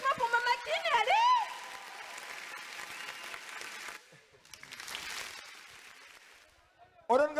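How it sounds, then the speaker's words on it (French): An audience at a youth cultural day in Le Havre claps for Mama Kiné, steady applause that thins out midway, with a voice speaking and shouting briefly near the start and end. "Applaudissements pour Mama Kiné"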